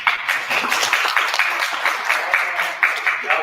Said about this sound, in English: Y'all clap because you appreciate it.